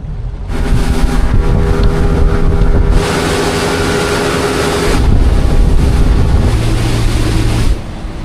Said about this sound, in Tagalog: Ang bilis talaga pang nag-speedboat.